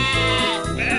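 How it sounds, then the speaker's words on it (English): Sheep bleating in a train set video game, a single loud, close wavering bleat lasting about a second with no talk over it. "Some sheep have wandered off from the farm."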